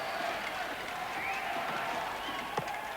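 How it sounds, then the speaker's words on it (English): A big crowd chants and roars at a one-day international cricket match between New Zealand and England, a steady distant swell of massed voices with occasional shouts rising above it. "Big crowd now chanting."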